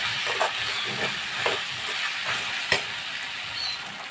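Beef bone biryani masala with salt sizzles and hisses in a pan as a spoon stirs it, with soft rhythmic scrapes and one sharp clank against the metal, no voices.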